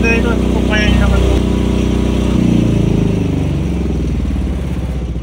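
A PK10000STRA generator engine runs nearby with a loud, steady low-pitched drone and rhythmic mechanical clatter, while people talk over it.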